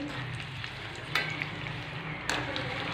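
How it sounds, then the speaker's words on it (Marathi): Curry leaves crisping in hot oil for a spicy puffed-rice chivda give a steady, close sizzle and crackle, with two sharper spitting bursts partway through. "आणि कढीपत्ता असा मस्त असा क्रिस्पी तळून घ्यायचा"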